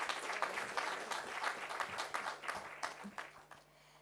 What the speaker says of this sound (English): let's give a round of applause to my DM Judith Nematsinga Shabalala from Employment and Labor